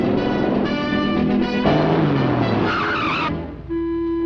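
A cartoon car peels away with loud, screeching skidding tires and a revving engine whine that falls and rises over about four seconds, with no talking.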